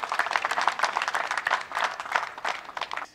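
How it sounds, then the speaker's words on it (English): A resounding round of applause at a Nigerian army donation ceremony in The Gambia: dense, steady clapping from a gathered audience, fairly close and sustained throughout with little else over it. "Can we give a resounding round of applause to my MFCMD?"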